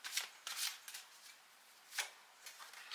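Tarot cards are drawn and handled close by, giving several quick papery riffles and slides in short bursts with brief quiet gaps and no talking.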